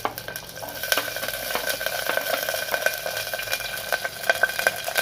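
Small onions sauté in hot oil in a pan for a Tamil dried-fish curry, giving a steady crackling sizzle with scattered sharp pops and occasional stirring scrapes, close and fairly loud.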